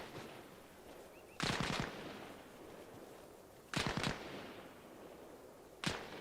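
Three separate bursts of gunfire in the military shooter game Arma Reforger, spaced a couple of seconds apart, each a sharp crack with a short rolling tail over quiet ambience.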